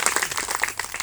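A congregation claps hands in a quick, brisk patter during a church sermon, close and fairly loud over a brief moment.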